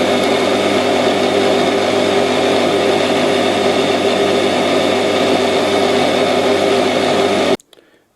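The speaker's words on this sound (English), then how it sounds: "Next I'm going to drill a hole." A lathe drills a hole in metal in a workshop, near an EMCO Dickson quick-change tool post. A loud, steady, close-up mechanical whirr holds evenly for several seconds, then stops abruptly near the end.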